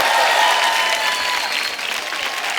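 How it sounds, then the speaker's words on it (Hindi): Studio audience applause at a Hindi comedy show, loud, dense clapping sustained steadily throughout, with no talk over it. "एक बार जोरदार तालियां किशोर दा के नाम पे।"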